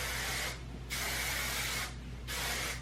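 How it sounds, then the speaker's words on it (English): Soft-hold hairspray sprayed onto hair at close range in three steady hissing bursts, each lasting about half a second to a second, with short quiet pauses between them. "any type of soft working hairspray"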